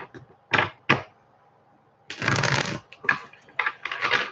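Tarot cards are shuffled in close, crisp bursts: two quick riffles, a pause, then a longer sustained shuffle followed by several short ruffles, with no talking.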